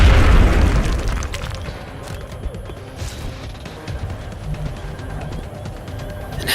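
Grenade explosion in XCOM Enemy Within, one loud booming blast at the start that rolls off into a fading rumble with scattered debris crackles.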